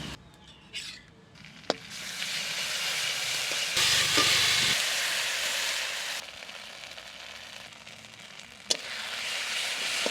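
Ground spice paste hits hot oil in a pan and gives a loud hissing fry that builds, peaks and then eases. A couple of sharp utensil knocks ring out near the start and end.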